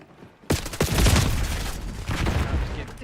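Gunfire in the video game Black Ops: a dense burst of rapid shots opens loudly after a short quiet lead-in, then keeps rattling as sustained automatic fire.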